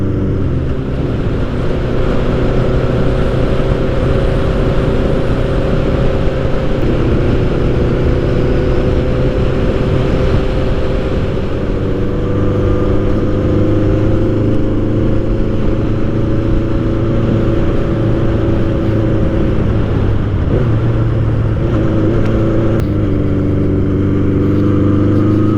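A Nighthawk motorcycle rides along a road, its engine droning loudly and steadily, with the pitch shifting in steps as the rider changes gears.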